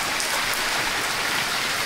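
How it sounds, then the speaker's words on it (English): Heavy rain pours steadily during Hurricane Ian, a loud, continuous wash of drops striking surfaces close by with no break and no voices. "Now we've got the rain too, so it's rough back here."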